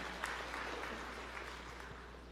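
A church congregation gives faint, distant, sustained clapping during a sermon, heard as a low steady patter over a background hum.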